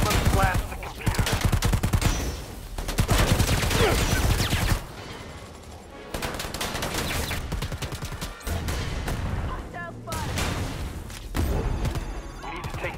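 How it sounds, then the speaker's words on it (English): Gunfire in Predator: Hunting Grounds blasts a computer: loud, rapid automatic bursts with short pauses between them, then quieter thuds and crashes near the end. "let's blast the computer"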